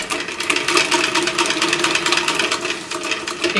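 A Simply Classic Miss Kitty sewing machine from American Stitchers stitches steadily on a cylinder arm, a continuous dense mechanical whir with rapid needle chatter holding an even level throughout, with no voices.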